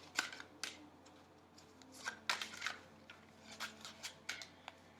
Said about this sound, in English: I don't know how long this shuffle will take